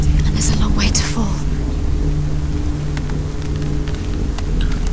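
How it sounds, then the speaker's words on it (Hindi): Steady rain falls in Hellblade: Senua's Sacrifice, a constant dense hiss filling the whole stretch, with faint whispering voices underneath and a person talking over it. "बारिश भी गिर रहा है।"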